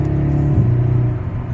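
A 2022 BMW M135i xDrive accelerates, its engine holding a loud, steady drone from start to finish, with the tone climbing slightly midway as revs build and no voices over it.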